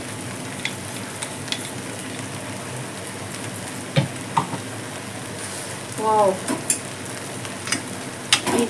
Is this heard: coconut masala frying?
yes